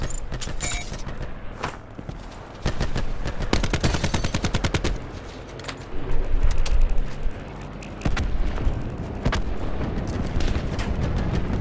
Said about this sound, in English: Getting shot from somewhere else.